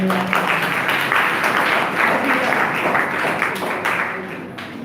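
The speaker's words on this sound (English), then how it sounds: "Give him a good round of applause again." An indoor audience at a motivational talk on time management breaks into steady, moderately loud applause that holds for several seconds and then slowly fades.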